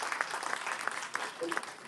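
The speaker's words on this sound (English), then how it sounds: "So a big round of applause for all of our sponsors." Guests at a charity scholars' dinner applaud the event's sponsors, a brief, moderate burst of scattered clapping in a banquet hall, with some voices mixed in.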